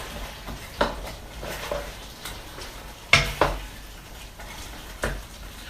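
Asparagus being stirred into chicken gravy in a pan, a few sharp utensil clinks and scrapes against the pan spaced irregularly over a quiet background.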